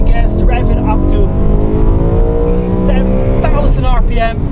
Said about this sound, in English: now you can go really on the gas, rev it up to